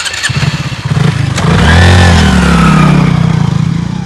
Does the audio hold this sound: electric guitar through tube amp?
no